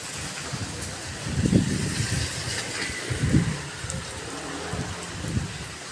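Rain falls steadily around a car in Bayrampaşa, a dense even hiss with intermittent low rumbles, while someone talks over it.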